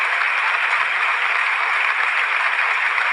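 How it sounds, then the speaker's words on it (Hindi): Audience applause during a political speech, a dense, steady roar of clapping held at an even, loud level throughout. "एक बार पुनः जोरदार तालियां होती"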